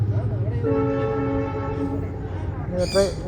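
A train passes near a railway in a wooded area, its horn sounding a sustained, close blare over rumbling wheels, with voices talking near the end.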